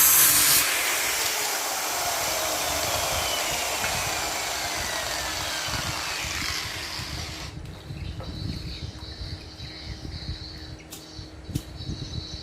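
A flathead screwdriver's head being cut off, giving a loud, steady grinding hiss for most of the stretch that stops abruptly, leaving a quieter workshop background with a few light clicks.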